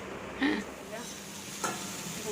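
Bengali chorchori with fish cooking in a pan, a soft continuous sizzle with a couple of light scraping stirs and faint clinks, fairly quiet and close; no talking.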